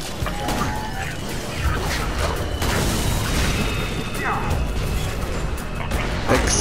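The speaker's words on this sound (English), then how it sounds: "Explosion" Explosions and combat noise from the video game Borderlands 2, a dense, sustained roar of booms and crashes lasting several seconds at moderate level, with someone talking over it.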